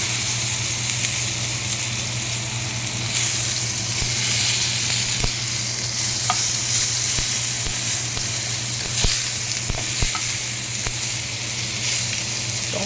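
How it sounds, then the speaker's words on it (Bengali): Chopped tomatoes frying in the oil left over from frying fish for a fish kalia curry. The sizzle is steady and close, a dense crackling hiss throughout, with a few sharp pops and no talking. "মাছ ভাজা হয়ে গেলে ওই তেলের মধ্যেই দিয়ে দিচ্ছি কুচিয়ে রাখা টমেটো"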